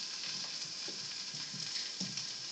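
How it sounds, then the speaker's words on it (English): Steady broadband sizzling of hot dogs frying in a pan, with occasional soft pops, continuous and close. "they're sizzling right here, which is good, because they're cooking"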